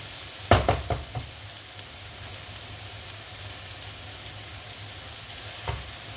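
Green beans and carrots stir-fry in a pan with a steady, gentle sizzle, broken by a quick burst of metal spatula clanks at the start and another single scrape near the end.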